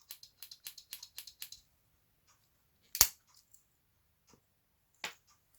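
Small scissors on a Victorinox Swiss Champ Supertimer Swiss Army knife, giving a quick run of about six light metallic clicks, then one sharper snap and a few faint ticks, close and quiet with no talk.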